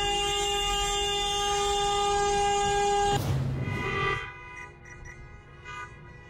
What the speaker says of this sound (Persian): سنندج، 16 مهر، بوق ماشینا، به نشانه اعتراض.